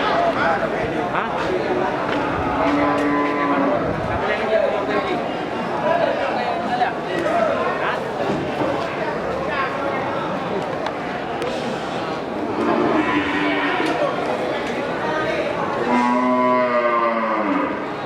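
Aceh cattle moo repeatedly, several long calls rising out of a noisy scene where four cows are loaded into a pickup truck, with people talking and shouting throughout.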